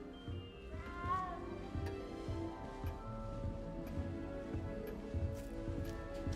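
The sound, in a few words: cat meowing in the video game Hogwarts Legacy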